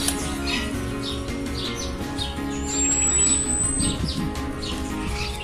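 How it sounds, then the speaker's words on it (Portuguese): Parrots and macaws call at a zoo, a steady stream of repeated squawks and chirps from several birds, with one thin sustained whistle in the middle, moderately loud and close against a constant outdoor murmur. "É um grupo muito grande de aves, papagaios, marianinhas, papagaio de peito roxo, arara"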